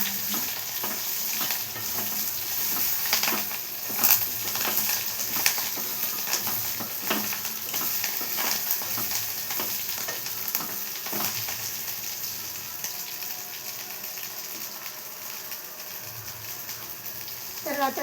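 Cumin seeds sizzle and crackle in hot oil in a pan while being stirred for sorakaya pachadi, a steady close frying hiss with scraping stir strokes and soft knocks throughout.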